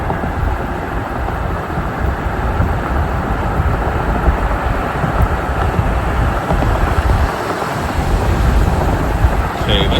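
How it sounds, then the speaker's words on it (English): Strong wind roaring through a tornado storm in Kansas City, a loud, continuous buffeting rush that persists for the whole stretch with no let-up. "Okay, that's a lot of wind there."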